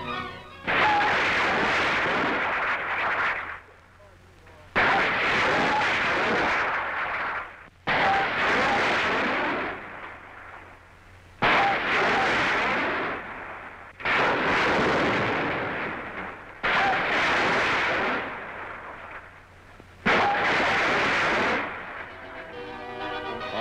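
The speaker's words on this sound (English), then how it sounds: "Here is the latest rapid-fire launcher. Shooting 2 5-inch rockets in salvo" A WWII rapid-fire launcher fires 5-inch rockets in salvo, six loud, roaring bursts of about three seconds each, separated by short pauses, each with a sharp onset and a long rushing tail.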